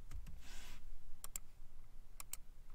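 Keys pressed on a computer keyboard while working in Excel VBA, a handful of faint, sharp clicks in small pairs, close by and quiet against a low background hum.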